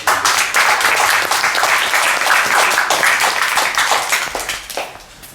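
Audience applauding at the official launch of a search engine in Paris, a dense, steady burst of many hands clapping close by that thins and fades near the end, with no talking.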